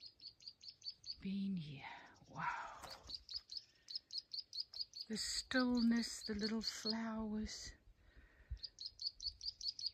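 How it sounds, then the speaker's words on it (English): Small birds chirp and tweet in repeated rapid bursts on an early morning in the Karoo among blooming aloes on a hillside, with a voice speaking softly over part of the calls. "the birds, you can hear the birds"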